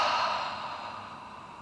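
A single deep exhale after a long breath in during a guided breathing exercise, a soft airy sigh that slowly fades out, close and alone.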